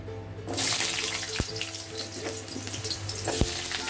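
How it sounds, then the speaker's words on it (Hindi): Potatoes drop into hot oil with a sudden loud hiss that becomes a steady crackling sizzle, broken by a couple of sharp clinks from a utensil against the pan. "तो तेल अच्छी तरह गर्म हो गया है। अभी हम आलू डाल देते हैं।"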